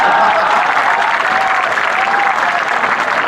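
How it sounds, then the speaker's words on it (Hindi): Loud, sustained audience applause at a Hindi kavi sammelan comedy poetry event, a dense continuous wash of clapping from a large crowd without a break. "एक बार फिर मेरे लिए इसी बात पर तालियां बजाएं"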